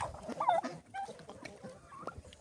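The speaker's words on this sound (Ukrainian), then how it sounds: "Ці індюки ганяють і ганяють." Turkeys and chickens in a farmyard, close clucking and gobbling calls scattered across a couple of seconds, with brief louder bursts and low background noise.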